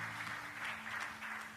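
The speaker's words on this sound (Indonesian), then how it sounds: "Tepuk tangan yang meriah bagi Tuhan Yesus." A church congregation claps during a sermon, a brief, soft patter of hands over a low steady hum in the room.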